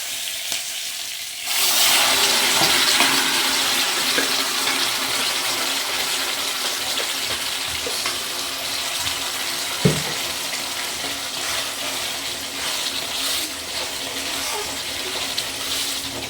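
Water poured into a hot pan while beef is cooking, a steady loud hissing wash that starts abruptly and runs throughout, with one brief metallic knock partway through.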